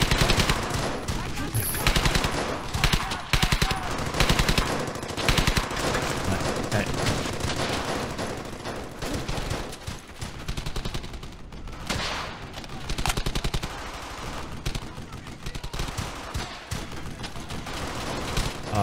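Sustained World War II gunfire in the Brothers in Arms: Hell's Highway shooter, with dense machine-gun bursts and single shots crackling loud and close almost nonstop, and brief pauses between volleys.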